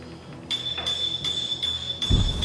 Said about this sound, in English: I hit it with a hammer.